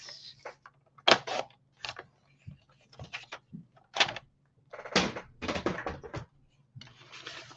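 Paper cut on a paper trimmer for a binder album tuck pocket: a series of irregular close clunks, slides and scraping strokes, some quick and some drawn out, over a faint low hum.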